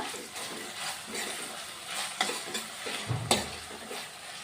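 Onions with ginger-garlic paste fry in a pan for a dried fish curry while a spoon stirs them, a close sizzle broken by scraping strokes and a couple of sharp clanks against the pan.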